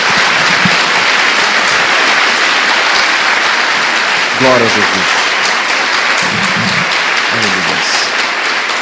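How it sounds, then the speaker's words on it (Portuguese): A church congregation gives a round of applause to the Lord, continuous loud clapping sustained for several seconds while a preacher's voice calls out over it in short bursts. "Dê mais uma salva de palmas ao Senhor"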